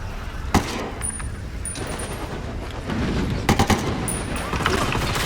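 Gunfire in the video game Ghost Recon Wildlands: a sharp single shot early on, then a quick cluster of rapid automatic bursts over continuous in-game battle ambience.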